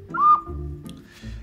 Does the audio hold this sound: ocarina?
yes